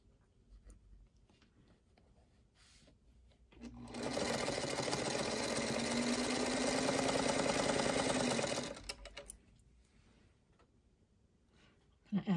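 A sewing machine stitches a quilt block for a Neighborhood House Block: one steady, continuous run of about five seconds, close and fairly loud, with near quiet before and after.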